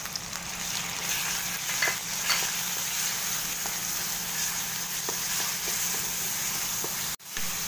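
Pork frying in a pan, a steady close sizzle with occasional pops and stirring scrapes that runs throughout and cuts off briefly near the end.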